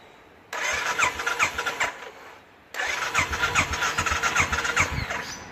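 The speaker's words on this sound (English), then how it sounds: "I'll start the bike up." Royal Enfield Classic motorcycle engine cranking and firing up, two start attempts with a brief gap, settling into a close, loud, pulsing single-cylinder thump.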